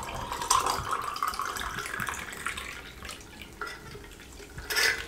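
Chilled water is poured into homemade lemon squash, a light trickling splash that rises and fades in short bursts, close up and alone.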